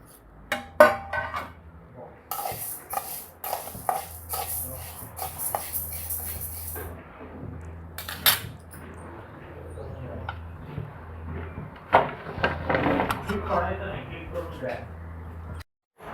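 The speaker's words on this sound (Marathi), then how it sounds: "आपले हुलगे चांगले असे खरपूस भाजून घेऊ, डाग पडेपर्यंत" Horse gram dry-roasted in a hot kadhai and stirred, giving bursts of scraping, rattling and metallic clinks against the pan, interrupted by someone speaking.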